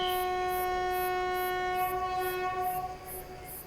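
A loud, sustained horn from the Shivamogga–Yesvantpur overnight express blares continuously, with a rhythmic clacking of wheels on rails underneath, fading slightly near the end.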